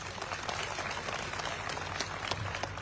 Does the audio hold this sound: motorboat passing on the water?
no